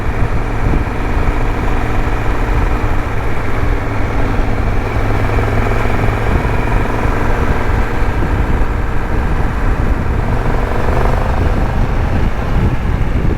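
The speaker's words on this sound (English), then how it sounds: "twin cylinder, two-cylinder when it's at low revs and pulling hard, and then at higher revs it starts sounding like a triple again." A Triumph Tiger 1200 Rally Explorer motorcycle engine runs steadily and loudly throughout, a continuous low mechanical drone with no speech over it.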